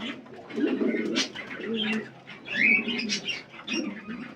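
Kept domestic pigeons, treated for colds in the rainy season, coo repeatedly in low, rolling phrases close by, with a few brighter chirps mixed in.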